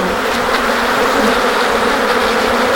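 Stingless bees buzzing loudly and continuously during hive handling, a dense close swarm hum with no voices over it.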